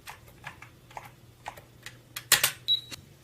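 Keys clicking on a 1984 Sinclair QL computer, a series of soft, evenly spaced taps ending in a louder burst of clatter and a brief high beep, faint and close over a low background hum.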